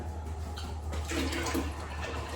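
Liquid pours steadily from a carton into a pot while making a stew-style pot roast, a continuous soft, wet rush at moderate level with no talking.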